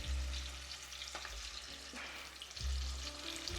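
Chicken pieces fry in hot oil, a close, steady crackling sizzle with sharper bursts of popping and spitting, heard alone without talk.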